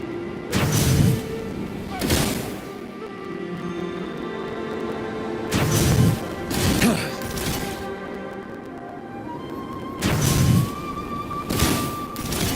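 Explosions blasting tacitite fulminate in the video game Wuthering Waves, several heavy booming blasts in irregular succession over about twelve seconds, loud and close, separated by lower rumbling ambience.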